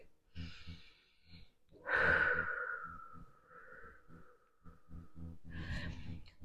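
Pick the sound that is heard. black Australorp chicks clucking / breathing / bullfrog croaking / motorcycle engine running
breathing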